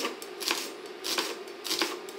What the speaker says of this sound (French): ciseler finement l'oignon